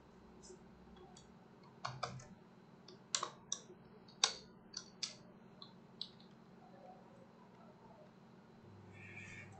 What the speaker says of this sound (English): Okay, I'll just type home here.